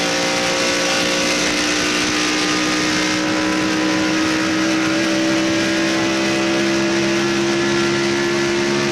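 NASCAR Winston Cup stock cars race at Atlanta Motor Speedway in 1996, a loud, constant engine roar from the pack filling the air with steady droning tones and no break or voices on top.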